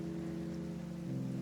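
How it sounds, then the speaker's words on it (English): Light rain falls in the Project Zomboid video game, a steady soft patter under a low, sustained ambient drone with no voices. "a cold wind followed by dark clouds which dropped some light rain had covered the sky."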